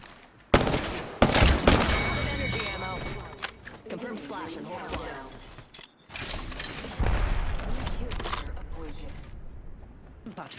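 Rapid bursts of automatic gunfire from Rampart's weapons in Apex Legends ring out in sharp clusters alongside explosive booms, with players talking over the shooting.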